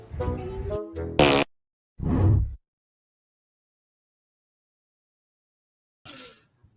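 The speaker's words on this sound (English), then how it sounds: "it sounded like a fart to me" A short, loud fart-like noise bursts out once after a stretch of conversation, followed by quiet and a faint trailing sound.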